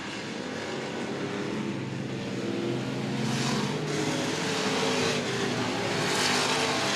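Race cars roar around the South Texas Speedway oval on the last lap, a dense, sustained engine drone that swells slightly toward the end of the stretch.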